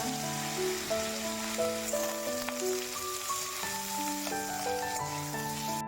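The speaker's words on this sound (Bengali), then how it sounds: "চলো আলুটা ভেজে নিই সকাল সকাল।" Potatoes fry in a pan with a steady, hissing sizzle under sustained background music, with no talking.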